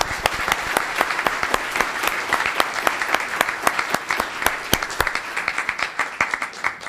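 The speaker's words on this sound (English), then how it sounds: "Another round of applause for Tristan." Audience applause at a Los Gatos town council meeting, a steady room-wide clapping sustained for about seven seconds, fairly loud and close, with individual sharp claps standing out and thinning slightly toward the end.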